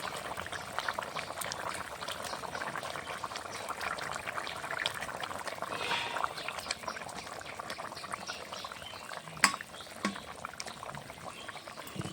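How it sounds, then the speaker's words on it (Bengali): A pot of fish curry with greens stalks boiling steadily, a soft continuous bubbling simmer with small pops, fairly quiet and close, with one sharper clink near the end. "তরকারিটা ফুটে উঠেছে সুন্দর করে"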